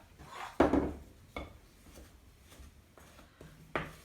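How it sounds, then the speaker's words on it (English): Butter and sugar are creamed together in a bowl for a banana nut cake, giving a few separate scraping, knocking strokes of a utensil against the bowl with quiet gaps between them, close and fairly soft. "it's time to blend the butter and the sugar together"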